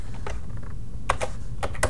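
Keys clatter on a computer keyboard while text is typed into an MS Word flyer, a few quick bursts of close, crisp clicks separated by short pauses, with no talking.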